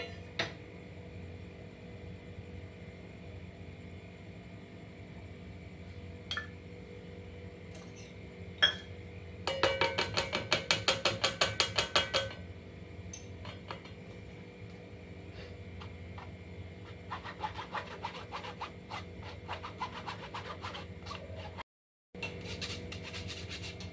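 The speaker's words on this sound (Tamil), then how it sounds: "இப்போ மைதாவையும் கோகோ பவுடரையும் இப்போ ஜலிச்சுப்போம்" Maida flour and cocoa powder sifted through a sieve for a homemade chocolate brownie, a soft rhythmic metallic tapping and rustle in bursts, one busier stretch midway and a lighter patter later, alone in a quiet kitchen.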